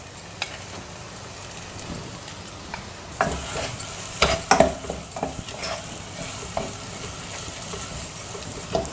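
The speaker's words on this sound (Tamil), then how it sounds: "கொஞ்சம் ஒரு கிளறிடலாம்." Corn makhani gravy sizzles softly in a pan as a spoon stirs it, with scattered scrapes and clinks growing busier midway through, alone and fairly quiet.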